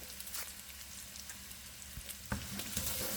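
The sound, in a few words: garlic, bay leaves and sazon sauteing in a pan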